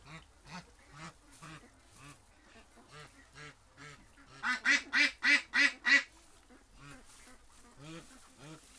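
A sick-sounding duck quacks up close, a run of rough, nasal calls with a louder burst of five or six quick quacks in the middle, and a person talks softly around it.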